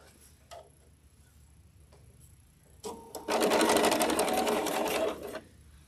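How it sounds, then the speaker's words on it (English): A sewing machine stitching a quilt block seam, a few soft ticks and then a loud rapid whirring run of stitches for about two seconds before stopping, close and without talk. "Let's sew the other side on."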